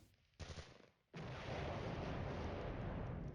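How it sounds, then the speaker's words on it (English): Mortar and artillery fire in the wargame Flashpoint Campaigns: a dense, continuous roar of distant gunfire and explosions that starts in a short burst, briefly drops away, then swells into a steady, heavy barrage with no voices. "Artillery being directed onto that guy automatically. Mortar's still peppering my guys as they advance."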